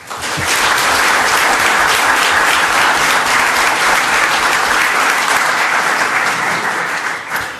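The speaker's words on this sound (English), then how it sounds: "One more round of applause." Loud, sustained applause fills a school board meeting room, a dense wash of many hands clapping at once for about seven seconds before tapering slightly at the end.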